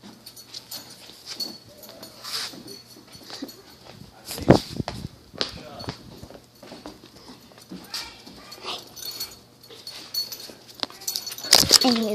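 A dog whimpers and pads around indoors, with soft whines, footsteps and a few sharper knocks, while people talk intermittently nearby.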